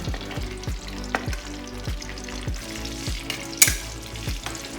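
Dry fruit roasting in a hot pan for old-style sweet rice, a steady close sizzle with rhythmic scraping stir strokes repeating about every half second and one sharp metallic clink near the end.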